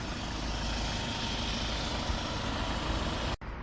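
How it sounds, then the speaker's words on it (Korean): The engine of a 2016 Hyundai Porter 2 Super Cab wing-body truck with a manual gearbox and Euro 5 diesel idles with a steady, rough rumble, cut off abruptly near the end. "자 엔진 소리 좋습니다"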